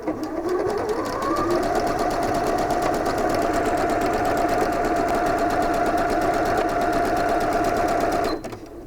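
A sewing machine runs a seam on stretchy pajama pants in one long, loud, steady burst of rapid stitching lasting about eight seconds before stopping abruptly.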